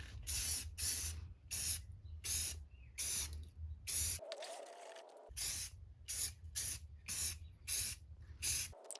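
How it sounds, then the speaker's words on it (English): Repeated short bursts of hissing from a black spray paint can, close and rhythmic, about a dozen quick sprays with a brief pause midway, painting an antique dresser. "I'm gonna take my black spray paint here"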